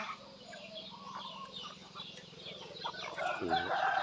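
Free-range native chickens cluck softly at a distance, with a brief louder call near the end over a low background hum.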